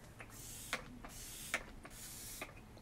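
A small bottle of makeup setting spray shaken briefly several times, giving short rattling clicks at an uneven rhythm over a soft background hiss.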